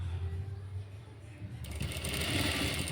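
Sewing machine stitching a sleeve design, with a quieter motor hum at first, then a louder, dense rapid stitching whir in the second half, close up and alone.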